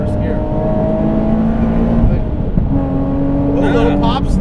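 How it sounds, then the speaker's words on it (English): A supercharged 430 whp Nissan 370Z, its engine droning loudly, lets out a short cluster of sharp exhaust backfire pops near the end. "That little backfire."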